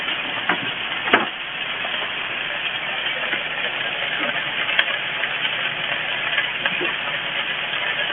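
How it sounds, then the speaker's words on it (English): Salmon sizzles on a smokehouse grill, four pieces at a time, making a steady broadband hiss with faint pops and crackles throughout. "Notice how you start to get the sizzle."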